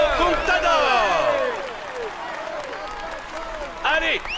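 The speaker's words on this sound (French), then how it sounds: "Allez, on l'applaudit bien fort" Crowd applause rings out for Alberto Contador at a Tour de France podium ceremony, steady clapping under an announcer's amplified voice that carries throughout.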